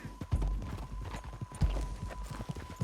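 Horse hooves clip-clopping at a steady walking pace in the video game Red Dead Redemption 2, fairly quiet and even.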